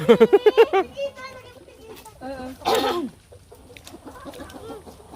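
A hen clucks in a quick series of loud, close calls at the start on a rural farm, followed by softer talk and children's voices in the background.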